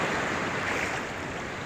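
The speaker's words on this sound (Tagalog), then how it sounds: "Medyo malaki lang yung alon guys, kaya dito lang kami sa tabi" Big ocean waves surge steadily along a shoreline, a loud continuous roar with a wash of wind noise across the microphone and no voices.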